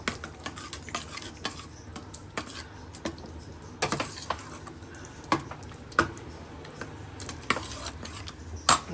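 A spoon stirs tadka tempering into bhaji in a pan, with repeated scraping and clinking strokes against the metal and a faint sizzle underneath, uneven in rhythm and close by, with no talking.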